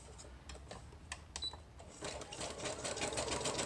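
A sewing machine stitches around a paper kit envelope. It starts with a few separate clicks and short bursts, then settles into a fast, steady run, close and moderately loud, with no talking.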